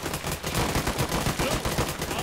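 Gunfire in the military shooter Arma 3, a rapid run of loud cracking shots in quick bursts, fairly close, with no talk over it.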